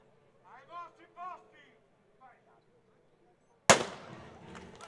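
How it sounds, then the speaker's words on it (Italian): A single sharp starting-pistol shot at a 2021 memorial cycling race finale cracks loud and close, followed by a decaying echo and crowd noise, after earlier speech from an announcer. "come il valore dell'assessore di Calzi, un colpo di pistola che neanche lo Stato avrebbe fatto così bene"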